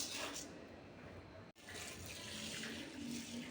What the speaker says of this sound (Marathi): सर्वप्रथम आपण ह्याला मूग डाळीला ह्या धुवून घेऊ